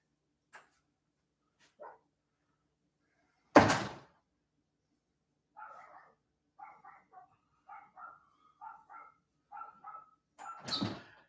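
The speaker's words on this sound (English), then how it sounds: "Quit barking." Dog barking outside a door, a series of short, muffled barks in quick clusters at medium distance, with a loud door bang earlier and another near the end.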